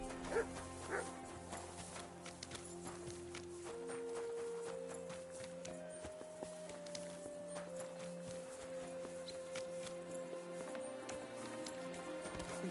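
Dog barking in the medieval game Kingdom Come: Deliverance II, a few short yips and barks over a busy town ambience with hoofbeats and a sustained musical tone.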